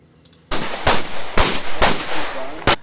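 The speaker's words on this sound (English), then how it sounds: "if you can shoot them while moving, shoot them while moving" Pistol shots fired while moving through a USPSA practical shooting stage, five sharp loud cracks at irregular half-second intervals with echoing tails between them, close to the listener.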